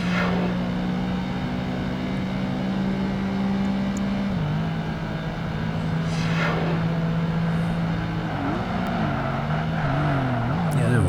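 Black BMW Z4 in the Xbox racing game Project Gotham Racing 2, engine droning at steady high revs down a long straight, then dipping and shifting as it brakes and corners, loud and continuous with no talk.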